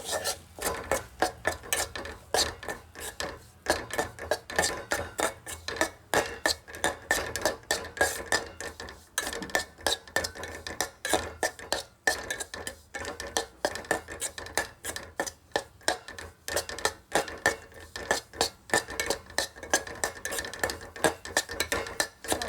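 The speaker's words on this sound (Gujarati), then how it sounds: "હવે આપણે એમાં ઘઉંનો લોટ એડ કરી દઈશું. ધીરે ધીરે એને મિક્સ કરતું રહેવાનું છે." Wheat flour scraped and stirred in hot ghee in a pan for a Jivantika Ma vrat prasad, a steady run of rapid metallic spoon-on-pan scrapes and clinks, close and fairly loud, continuing throughout with no speech.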